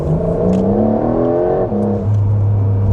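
A Porsche 911 Turbo accelerates hard, its engine note climbing in pitch through the gears with a brief dip between shifts, loud and close from inside the car, with no one speaking.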